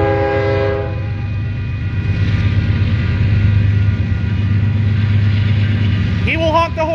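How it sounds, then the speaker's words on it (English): Union Pacific intermodal double stack train rumbling past, a loud steady rail roar with a sustained horn blast at the start, carried on near and heavy, and a voice briefly speaking near the end. "He will honk the horn, don't worry."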